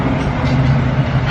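Heavy trucks roll past close by in a steady, loud low rumble that holds for the whole brief moment, with no voices over it.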